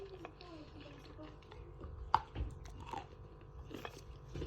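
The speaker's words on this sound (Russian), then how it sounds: "Откусила, она так рассыпается во рту, когда ее жуешь." Someone biting and chewing dry yellow Bashkir edible clay with a biscuit-like texture that crumbles in the mouth, giving soft close crunches and one sharp crack near the middle, set against low room noise.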